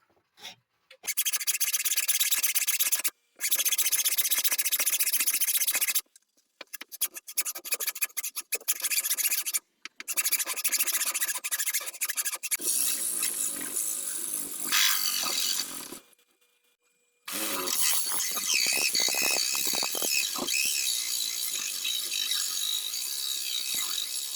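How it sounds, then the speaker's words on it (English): A hand hacksaw cuts through building material during home renovation work. It makes close, rhythmic rasping strokes in several bursts separated by short pauses. No one speaks. "we're going to try to use a hacksaw to get through some of it"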